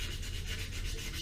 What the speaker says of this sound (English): So a lot of sanding.